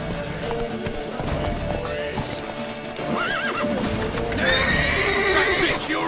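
A horse in The Witcher 3: Wild Hunt whinnies and snorts over steady clip-clopping hooves, with a game soundtrack and shouting voices running underneath.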